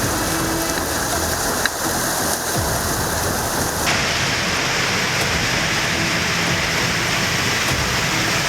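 Heavy rain pours down on Bengaluru streets in a dense, unbroken roar that stays steady and loud, with a faint change in texture midway.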